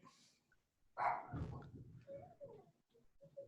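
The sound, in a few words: dogs barking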